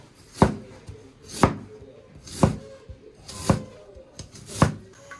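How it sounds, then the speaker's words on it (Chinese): A cleaver smashes and chops garlic and ginger on a board: five sharp, evenly spaced thuds about a second apart, each distinct and fairly loud, with quiet gaps between them. "拍点蒜末， 来点姜片，"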